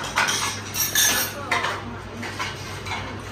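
Dishes and cutlery being picked up in a home kitchen, with close, bright clinks and clatters of metal utensils and plates in uneven bursts.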